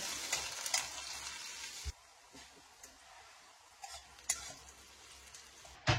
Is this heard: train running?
no